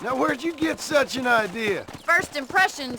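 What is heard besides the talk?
No distinct noise like a dog, phone or traffic.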